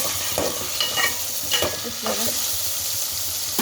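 Chopped bottle gourd frying in a pan, a constant soft sizzle under repeated scraping and clinking stirs of a utensil against the pan, spaced unevenly across the moment.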